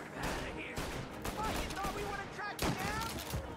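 Gunfire in Mafia Definitive Edition, quick rattling volleys of shots mixed in with excited talking, moderately loud throughout.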